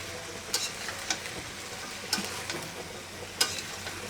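Spices and vegetables sautéing and being stirred in a pan, a faint low sizzle with a few sharp scrapes or clinks of the spoon against the pan, spaced irregularly.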